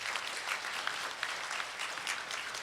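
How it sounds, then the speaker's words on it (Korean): A gathering at a Buddhist book-launch ceremony gives big applause for Kim Jin-seon, former Gangwon governor, a steady roomful of clapping with crisp individual claps popping through, sustained and fairly close. "큰 박수 좀 쳐주십시오"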